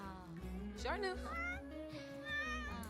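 A cat meows in a video game, several wavering, rising and falling cries in a row set against gentle background music, clear and close, with short pauses between calls.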